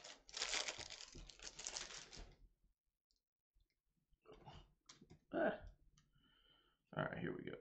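Board game components for Stuffed Fables being unwrapped from a pack, with crinkly plastic crumpling and clicking bursts close up, broken by a quiet pause and then more rustling handling noises.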